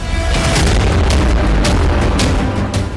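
Rocket strike explosions from news footage of an attack on Safed, Lebanon, a dense barrage of deep, loud booms and bursts rolling one into another with no pause.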